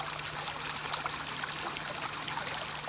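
Hot spring water flows steadily over a travertine terrace built of carbonate and silicate deposits, a soft continuous trickling and pouring wash with no voices, fairly quiet and close.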